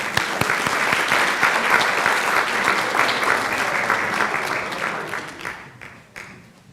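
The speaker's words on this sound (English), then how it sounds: "Big round of applause for both teams." A crowd at a school board meeting applauds both teams. The clapping is full and steady, then tapers off toward the end as it dies down.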